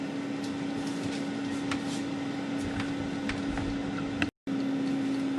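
Air fryer running while it cooks a turnover, a steady low mechanical hum with a faint fan whir and a few small ticks, briefly cutting out near the end before resuming.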